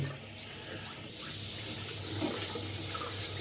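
Tap water running into a sink to prepare shaving water, a steady gentle stream that grows slightly fuller partway through, quiet and close with no talking.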